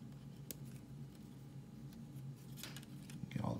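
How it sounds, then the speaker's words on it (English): Scissors snip through a figure's arm in a few quiet, close cuts over a low background hum, with a brief rustle of handling near the end. "I think what we can do is we can snip the arm here."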